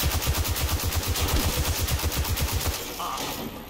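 Rapid, evenly spaced gunfire rattles for under three seconds in a Destiny 2 firefight, then cuts off, leaving a fading ring and low ambient hum.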